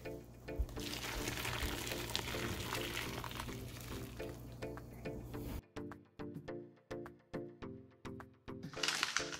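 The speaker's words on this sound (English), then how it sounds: "And get that hot water coming right up." Hot water is poured steadily while tamales are being prepared in a kitchen, a continuous rushing splash that gives way to a run of short separate clunks and taps near the end, with no one talking.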